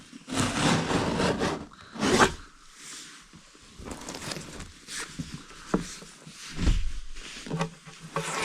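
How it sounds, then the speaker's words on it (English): A regular knife cuts through a compressed board during a remodeling job, giving uneven scraping and rasping strokes in close bursts with short pauses between them. "we hopefully can easily cut this here with just the regular old knife"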